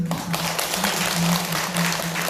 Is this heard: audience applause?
yes